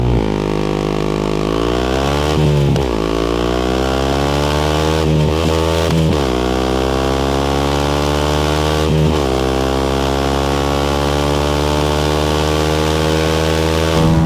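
A loud 2018 Yamaha YZF 125 motorcycle engine revs hard from a standstill and climbs in pitch through several gear shifts, each with a brief drop before surging upward again.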